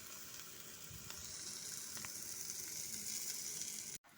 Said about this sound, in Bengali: এখন দিয়ে দেব গাজরের আর বেসনের পেস্টটা।